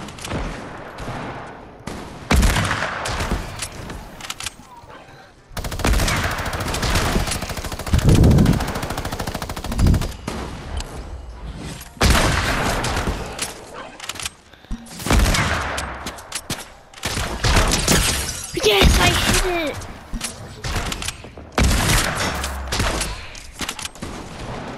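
Heavy gunfire in the video game Fortnite, including sniper shots: dense, loud bursts and rapid repeated blasts in clusters across the whole stretch, with brief quieter gaps and no talk.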